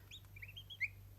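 Faint, high chirping calls from domestic chickens kept at a home in Ingushetia, a few short tonal peeps over a low steady hum, with one slightly louder call near the end.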